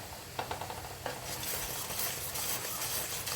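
Sizzling jaggery mixture is stirred in a pan, a constant close frying hiss with repeated scraping strokes of the utensil.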